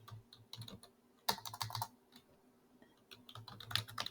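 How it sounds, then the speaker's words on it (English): Typing on a computer keyboard while entering a value into an Excel spreadsheet, with irregular bursts of close, crisp key clicks and short pauses between them. "So I will type here critical value"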